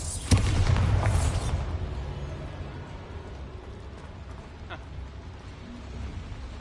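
A Bombarda blasting spell goes off in Hogwarts Legacy inside a small mine, a single loud booming burst at the start that fades into a low rumbling tail with faint game ambience.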